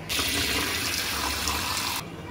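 Water runs from a tap and pours into a pot of washed, cut potatoes for aloo gosht in a home kitchen, a steady close splashing stream for about two seconds before it stops abruptly.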